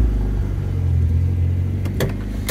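A Volvo 240 Turbo, a UK car tuned past 300 bhp, idles with a steady low engine rumble close by before setting off, with a couple of short clicks and knocks near the end.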